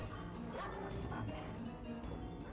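Dogs in the video game Tower of Fantasy bark and yip in quick bursts, close and clear over a murky in-game background.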